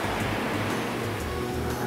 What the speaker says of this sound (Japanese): 糸島の波の音 BGM。